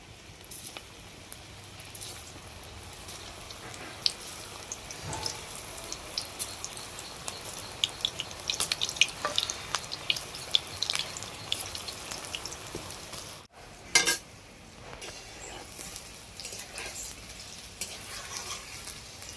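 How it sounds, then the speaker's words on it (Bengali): Green banana koftas deep frying in hot oil, a dense, continuous bubbling sizzle with faint crackles and pops throughout, one brief drop-out midway, at a moderate distance. "তেলটা ভালোভাবেই গরম হয়ে গেছে, যেগুলো বানিয়েছি সেইগুলো আমি ভাজতে তুলে দেবো।"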